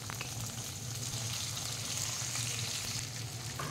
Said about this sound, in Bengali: এবার আমি কেটে রাখা শিমগুলো ভাজতে দিয়ে দেবো।